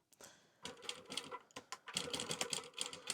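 An industrial sewing machine stitches clear TPU at a long stitch length, running in quick mechanical bursts that start and stop several times, close and steady with no talking.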